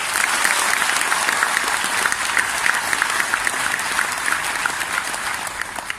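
An audience at a company recognition night applauds, with many hands clapping in a dense, steady roar that carries on loudly for several seconds with little rise or fall.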